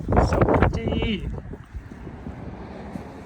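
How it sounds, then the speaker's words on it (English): Gusty, cold wind over the Hudson River buffets the microphone, loudest at first and then easing into a softer rush, with a brief voice mixed in early. "Yeah, it's windy and cold."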